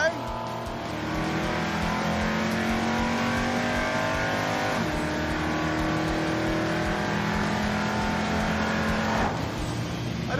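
A 1981 Buick Century engine revs hard in first gear against the rev limiter, a loud, sustained roar close by with brief dips in pitch around two points as it bounces and recovers.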